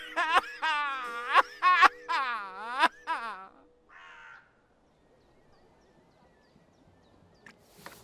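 A bird caws in a video game, several loud, harsh calls in a ragged series over the first three seconds, then a short rasp followed by quiet ambience.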